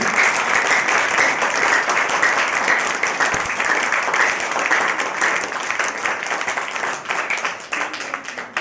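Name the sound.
applause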